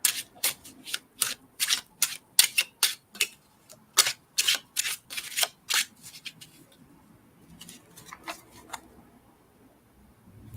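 Brisk, rhythmic riffling of cards in quick bursts, about a dozen sharp rasps in a row, then softer scattered flicks as the pace slows.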